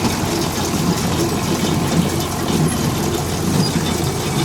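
A farm baler under test runs steadily, its loud continuous mechanical drone and rattle holding at one level from start to finish with no voices.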